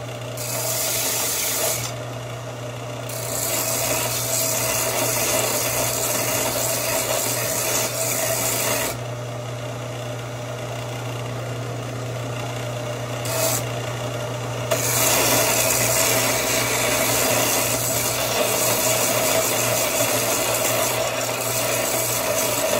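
Bowie knife or meat cleaver steel blade being ground to clear away a layer of slag, a steady loud abrasive rasping that runs the whole time with brief dips and shifts in pressure, no voices.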